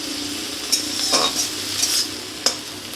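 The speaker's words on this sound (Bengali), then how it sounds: "আমি এরকম নাড়াচাড়া করে শাকটাকে ভেজে নেব।" Leafy greens being stirred and fried in a pan: a steady close sizzle, with a few sharp clinks of the utensil against the pan and no voices.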